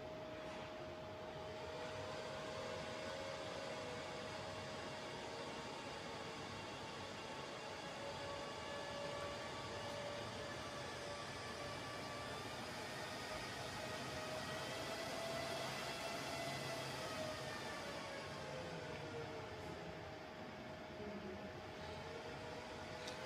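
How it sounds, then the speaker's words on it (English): An HPE DL560 Gen9 rack server, a 72-core render machine, roars steadily with its cooling fans spun up under heavy processing load, a constant broadband whoosh with faint tonal whine, unbroken throughout and without speech. "when it's under load, the server will spin up its fans."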